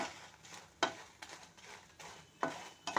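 Chillies, spices and curry leaves crackle and sizzle in hot oil, broken by several sharp scrapes and clinks as a spoon stirs the pan at close range.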